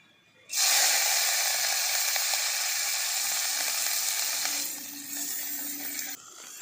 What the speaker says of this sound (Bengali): তেলটা গরম হয়ে গেছে, আর এরপর আমি দিয়ে দিচ্ছি কেটে ধুয়ে বেছে রাখা চিংড়ি মাছগুলো